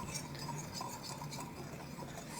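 Flour, salt and baking powder being stirred together in a bowl, a soft continuous scraping and rubbing close by, with no voices.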